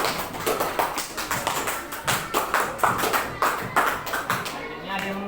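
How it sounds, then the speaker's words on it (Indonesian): Students in a classroom clap in applause during a social studies lesson, a rapid run of bright, overlapping hand claps at close range with voices mixed in beneath. "tepuk tangan semuanya"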